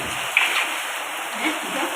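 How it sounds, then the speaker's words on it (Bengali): Heavy rain pouring steadily during a cyclone, a dense hiss of downpour with occasional louder splashes, heard close and continuous with no talk. "যে পরিমাণ বৃষ্টি পড়তে আছে"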